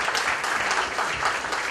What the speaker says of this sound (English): How about the big round of applause for Reverend Byun and Ms. Kim Ja-kang